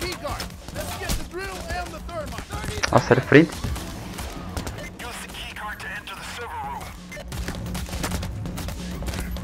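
Gunfire during a heist in the video game Payday The Heist: bursts of rapid shots and a short volley mixed with game noise, while someone talks over the action.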